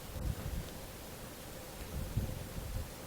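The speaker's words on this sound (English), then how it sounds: "That wind's pushing pretty hard to the right." Wind gusts across an outdoor shooting range, producing a low rumbling buffet on the microphone that swells and fades, steady and close, with no talking.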